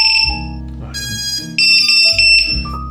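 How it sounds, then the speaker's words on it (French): The standalone buzzer on an 8-inch long-range drone beeps in a series of shrill electronic tones, changing pitch in steps over a few seconds, loud and close with no talking. "Buzzer autonome se fait plaisir."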